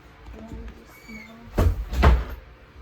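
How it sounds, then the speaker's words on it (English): A door pushed shut indoors during a nail-prep session, giving two close, fairly loud thuds about half a second apart, after faint earlier clatter. "Close my door."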